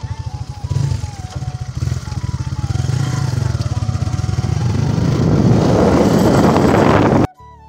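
Close, loud motorcycle engine rumbling with a fast pulsing beat, revving up and rising in pitch with wind buffeting the mic, then cutting off abruptly as the bike stops at Gogamukh.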